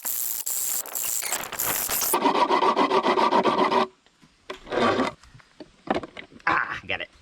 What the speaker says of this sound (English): I'm gonna spend the next hour probably trying to file through this